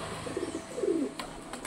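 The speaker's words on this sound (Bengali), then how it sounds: "এইবার চালের উপরে অনেকগুলো পায়রা হয়েছে" Pigeons on a roof cooing softly, two low rolling coos in quick succession, somewhat distant over faint outdoor background noise.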